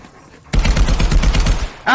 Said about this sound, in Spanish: alcancé a cambiar a single shot para meterte esos tres tiros en la espalda